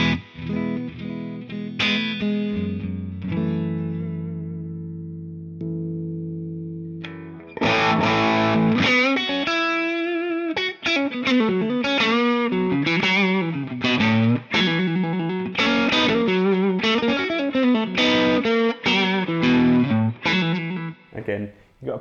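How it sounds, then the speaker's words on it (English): An electric guitar plays through the amp's clean channel, opening with a few ringing chords that fade out, then moving into busy single-note lead phrases, close and steady with no voices. "So now I'm going to switch back to the clean sound of the amp."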